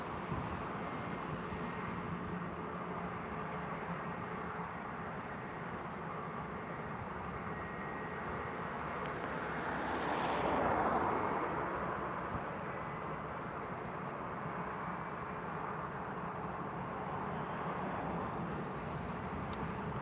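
A Vueling Airbus A320 at Lisbon Airport produces a continuous broadband engine roar that swells gently near the middle, heard from a distance as a steady wash of noise.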